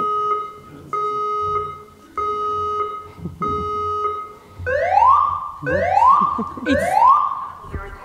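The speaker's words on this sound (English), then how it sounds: "the smoke alarm is going off and they're going to turn it off in about half a minute" Indoors at an evening gathering, a smoke alarm sounds a steady repeating electronic beep pattern, then shifts to rising whooping sweeps, loud and persistent, with a voice speaking briefly over it.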